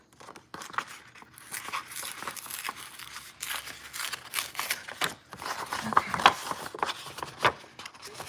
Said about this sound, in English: now let's gently take apart the envelopes